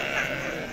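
A sheep at a livestock market in Morocco bleats briefly, one sustained wavering call, close and clear.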